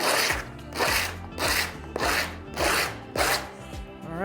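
The edges of a metal cuff bracelet are sanded by hand, with about eight even back-and-forth rasping strokes in a steady rhythm, close and loud, with no talk.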